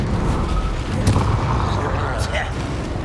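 Bombarda blasting spell in Hogwarts Legacy erupting in a heavy, rumbling explosion with sustained low booming and crackling debris, loud and dense from start to finish.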